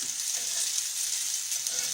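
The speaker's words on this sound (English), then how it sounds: "This is different from cooking it deep fat frying catfish now, because we're cooking it slow." Catfish fries slowly in a pan of shallow oil, giving a steady, even sizzle and crackle close up with no talking.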